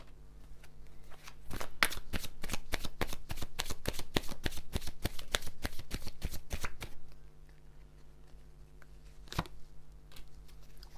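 A tarot card deck is shuffled up close with a rapid run of crisp riffling clicks for several seconds, then quieter handling and one sharp snap near the end. No one speaks.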